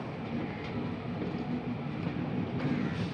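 The Coromandel Express (12841 Howrah–Chennai) pulls out of Visakhapatnam, heard from on board as a steady low rumble and rolling hum with faint clicks of the carriage, continuous and moderately loud, without speech.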